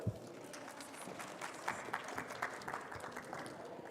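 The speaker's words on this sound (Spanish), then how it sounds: "Un aplauso, por favor." Audience applause for a speaker at a nursing conference session on evidence-based nursing at UAM: a steady, moderately loud wash of many hands clapping for about four seconds, with no talking over it.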